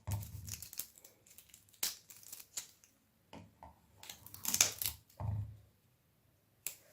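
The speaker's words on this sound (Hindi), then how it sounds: "अब मैं जो लहसुन है इसकी भी छिलके उतार लेती हूँ।" Garlic cloves being peeled by hand in a kitchen, heard as close, irregular crinkling and tearing of the papery skins, with scattered sharp snaps and quiet pauses between them.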